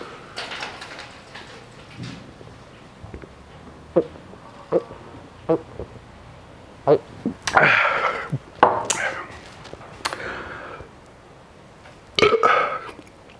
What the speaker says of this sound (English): It's going to be massive burp coming up.